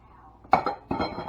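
Two eggs cracked against a mixing bowl, sharp clinks with brief shell taps, two distinct close hits.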